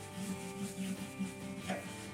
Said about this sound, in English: Might be easier just rubbing it on like this.